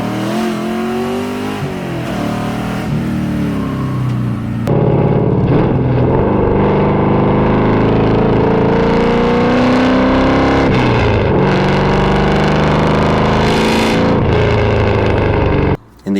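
An LS V8-swapped BMW E36 pulls hard through the gears, its loud, raspy exhaust climbing in pitch with each rev, dipping at shifts and rising again, close and dominant throughout with no talking over it.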